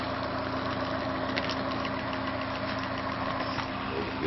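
An engine running steadily at normal speed after being unhooked, a continuous mid-pitched hum with a faint vibrating undertone, close and even throughout.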